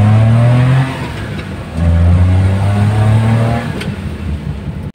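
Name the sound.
Suzuki multicab with F6A engine revving on test drive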